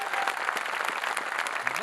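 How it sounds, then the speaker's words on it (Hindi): An audience claps at a Hindi comedy poetry show, a dense, fairly quiet patter of many hands running the whole time with faint crowd murmur. "तालियां कमजोर है आपकी।"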